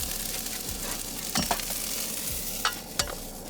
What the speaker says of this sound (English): we're gonna stir these and cook these until they become a little soft